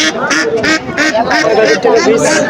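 Muscovy ducks at a busy village market give repeated nasal quacks and honks, close and loud, mixed with a crowd's chatter.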